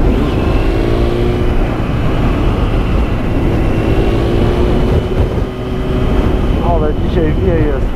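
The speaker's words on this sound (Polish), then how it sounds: "Ale dzisiaj wieje strasznie." Strong wind roars steadily and loudly outdoors, a broad continuous rush that barely dips, with a voice speaking briefly near the end.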